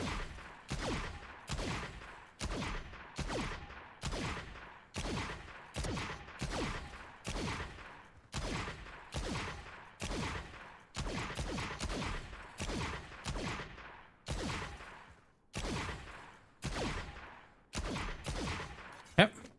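Rapid bursts of gunfire in the tactical shooter Valorant, shot after shot in quick regular taps and short volleys repeating steadily throughout, loud and close with no talking.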